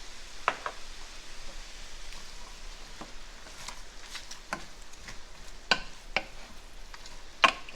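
Lentil soup being stirred in a pot, a low bubbling simmer with scattered light clinks and scrapes of the spoon against the pot.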